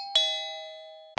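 An intercom doorbell rings at night with a clear electronic chime tone that rings out and slowly fades, and a second chime starts right at the end.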